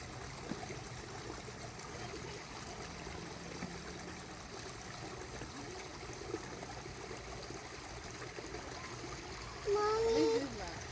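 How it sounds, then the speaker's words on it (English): A creek in a park runs as a soft, continuous trickle and splash at low level, with children's voices heard faintly over the water. "We found the creek."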